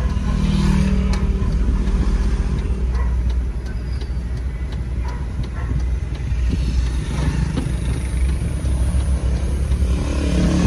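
A truck engine accelerating, its loud, steady rumble swelling slightly as it pulls away, up close and continuous with no talk over it.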